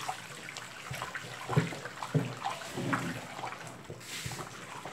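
A mixture of caustic soda for homemade bleach is stirred by hand, giving soft, uneven sloshing and liquid scraping strokes, fairly close and with no one speaking.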